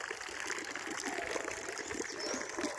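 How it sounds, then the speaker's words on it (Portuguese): A solar-powered pump pours water into a large pond, giving a steady, close gushing splash that runs unbroken and fairly soft, with no voices. "Tá jogando bastante água no nosso lagão, né?"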